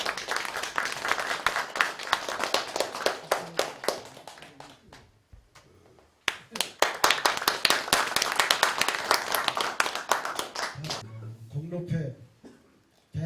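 An audience claps at a commemorative award ceremony, with bursts of applause of moderate loudness that pause briefly and then resume, and a voice talks near the end.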